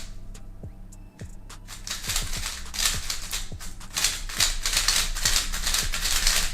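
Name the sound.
speedcube being turned, clicky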